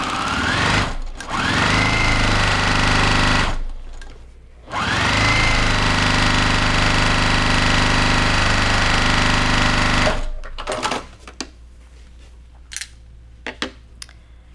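A sewing machine runs in two long, steady bursts while stitching a quilt block for a charity quilt-along, its even motor hum near and loud, followed by quieter clicks and handling noises.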